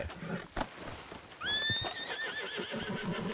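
A horse gives a clear rising whinny, and faint hoof clip-clop is heard around it, at moderate distance against a quiet background.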